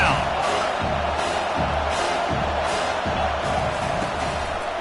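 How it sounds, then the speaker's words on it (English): Home crowd at a college football game roars steadily as the defense lines up for a third-down stop, a dense, sustained wash of cheering with rhythmic thumping underneath and no break throughout. "Here comes this home crowd as the defense tries to get off the field on third down"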